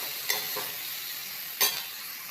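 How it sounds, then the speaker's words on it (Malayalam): Cluster beans with crushed coconut and green chilli fry in a pan for thoren, a soft steady sizzle broken by a few scraping stirs of a spoon. "എന്നിട്ട് ഇത് നല്ലപോലെ ഇളക്കി വേവിച്ച് കൊടുക്കാം."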